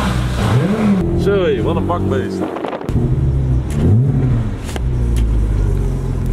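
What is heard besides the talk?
supercar engine revving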